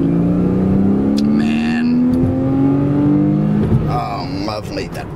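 A 2009 Porsche Cayman coupe's engine revs and pulls steadily while driving, a rising drone carried continuously under a voice.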